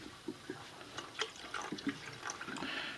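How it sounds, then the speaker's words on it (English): Vinegar is poured into a pot, giving a short, quiet run of liquid splashes and drips with no talking. "Take your vinegar. Pour it into the pot."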